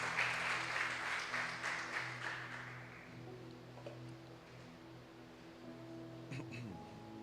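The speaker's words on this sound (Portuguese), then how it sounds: "Quem pode aplaudir ao Senhor, aplauda" Church congregation applauding, a burst of dense clapping that fades over the first few seconds, then gives way to room noise with a sustained electronic organ-like tone and brief clatter.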